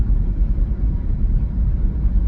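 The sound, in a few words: car rumbling, running bumpy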